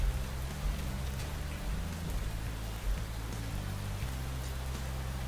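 Steady rain in the space sandbox game Space Engineers, a dense, even hiss of drops pattering on surfaces. A low droning hum runs underneath, and there is no talking.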